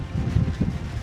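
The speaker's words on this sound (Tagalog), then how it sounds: "Hindi ko alam kung naririnig niyo yung hangin pero napakalakas." Strong wind buffeting a rider on a motorcycle on a mountain road from Atok to La Union, a loud, low, gusty rumble that fills the whole moment without talk.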